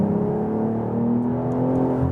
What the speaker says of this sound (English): When here I'm accelerate out of the corner.